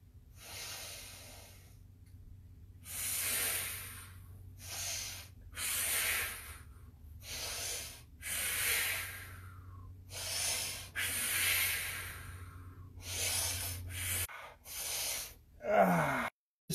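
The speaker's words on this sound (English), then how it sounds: "Try to breathe in through your nose." Repeated sharp breaths drawn in through the nose during an exercise workout, about a dozen forceful sniffing inhales in uneven bursts over a low steady hum, close to the microphone, with no talking.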